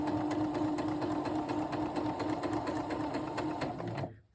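A sewing machine runs continuously, stitching quilt fabric with a fast, even mechanical whir and regular needle clatter, close and loud, stopping abruptly at the end.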